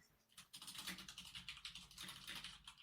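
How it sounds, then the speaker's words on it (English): Rapid, steady clicking of keys on a computer keyboard continues throughout, quiet and close, with no voices. "Who is typing?"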